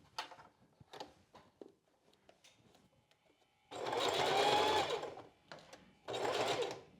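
A sewing machine basting hook-and-eye tape onto a strapless bra runs in two steady bursts of a second or so each, close and clear, with brief soft handling noises between them.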